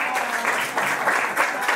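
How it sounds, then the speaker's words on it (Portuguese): A workplace group gathered around an HR team breaks into steady applause, dense clapping that fills the whole short stretch at fairly close range, with a few voices mixed in beneath. "Uma salva de palmas para o nosso esforço."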